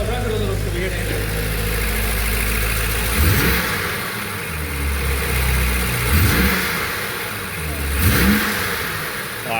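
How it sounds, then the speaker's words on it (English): A BMW XM's engine idles with a deep rumble and blips upward in several short revs, rising and falling between them. People talk over the engine noise. "rev it a little so we hear the engine"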